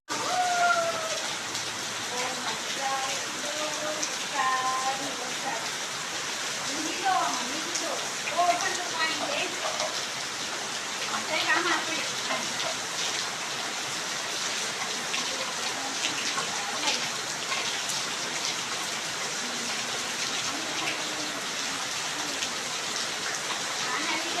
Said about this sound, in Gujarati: તો ચાલો, વરસાદમાં નાહીએ.